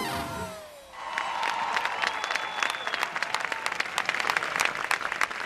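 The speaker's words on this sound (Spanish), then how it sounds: "Que se escuche el aplauso para las comparsas Lianceiros, Kizamba y Baracoa" Audience applause and cheering at a carnival gala in Las Palmas de Gran Canaria, a dense, sustained burst of clapping from a large crowd that swells after a brief opening and holds steady.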